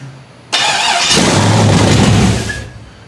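A non-stock 4.8-litre LS twin-turbo engine in a Toyota Hilux cranks and catches abruptly, roaring loudly and close for about two seconds before cutting off.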